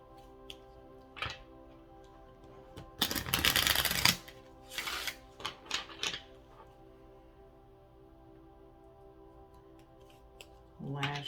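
A deck of tarot cards is riffled in a quick, crisp burst, followed by several short shuffling taps and soft card slaps, close and fairly faint.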